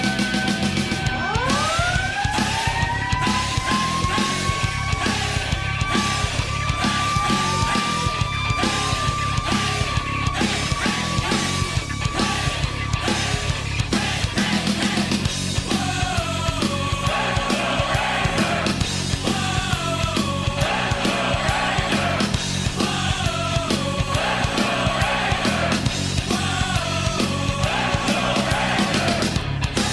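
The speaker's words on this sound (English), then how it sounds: "It is the sound you hear when the Kitchener Rangers score a goal." The Kitchener Rangers' hockey goal celebration song: a loud, busy arena anthem with driving beat and electronic effects, rising whoops and siren-like sweeps early on, dense and continuous throughout.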